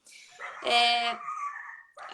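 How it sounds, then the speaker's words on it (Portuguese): A pet dog yips and whimpers at home in one short, mid-distance burst lasting about a second, with a brief voice starting at the end. "Desculpa, meu cachorro tá latindo, vocês devem estar ouvindo."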